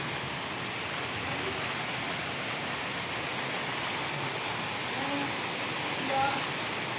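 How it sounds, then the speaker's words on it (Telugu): Steady rain pours down outdoors amid gusting wind, a dense, even hiss of drops on surfaces that holds close and loud throughout with no voices. "వర్షం పడుతుంది"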